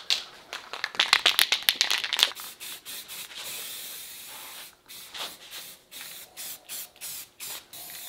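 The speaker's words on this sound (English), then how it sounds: "go spray paint this" A spray can coats a pulley from a bow tillering stick, first with rapid short bursts of hissing spray, then longer sputtering hisses in an irregular rhythm, close and alone.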